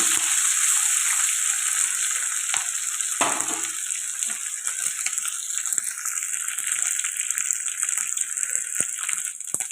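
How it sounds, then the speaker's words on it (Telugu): Snails frying in oil in a pan for an egg curry, giving a steady, loud broadband sizzle that fills the whole stretch, with a brief stir or clatter partway through and no talking. "ఫ్రై చేసి వండుకోవడం వల్ల చాలా టేస్టీగా ఉంటుందండి ఆయిల్లోనే బాగా ఫ్రై చేసుకోవాలి"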